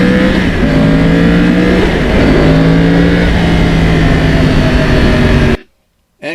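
A Yamaha R1 with a crossplane engine runs under a rider, its loud, close exhaust droning and rising through the revs across a long pull. The engine note shifts with the gear changes, then the sound cuts off abruptly near the end.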